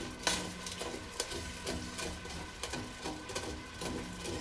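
A metal utensil scrapes the bottom of a hot pan on high heat while deglazing after cooking ginger beef and pork tenderloin, with repeated short scrapes over a steady sizzle.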